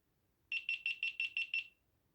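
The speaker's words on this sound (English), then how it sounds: "that's just the notification buzzers that I've turned it off" A GoPro Hero 7 sounds its notification buzzer while powering off: seven quick, evenly spaced high beeps in a short burst, fairly quiet and clear against near silence.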